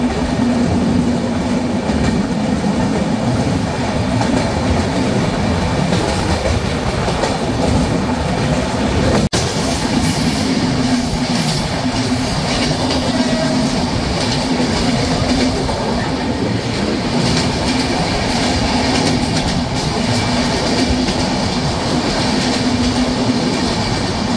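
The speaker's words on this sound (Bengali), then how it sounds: "ট্রেনটি এখন থ্রুপাস করে যাচ্ছে বাংলাদেশের সর্বপ্রথম railway station Jagati railway station" Madhumati Express passenger train running through Jagati railway station in Kushtia, Bangladesh, with a loud, steady rumble and rhythmic wheel clatter continuing throughout, close and unbroken.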